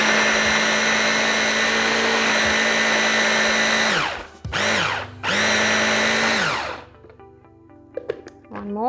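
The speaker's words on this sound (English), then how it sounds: "So I'm just going to pop this into the food processor and give it" A food processor chops Italian flat leaf parsley with a loud, steady whir, stops, then gives two short bursts before the motor winds down, followed by a few light clicks and knocks.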